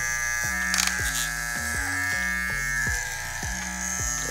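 Electric hair clipper buzzing steadily during a zero-gap bald cut, its hum repeatedly shifting pitch in short stepped patterns as it passes over the head, loud and close with no talking.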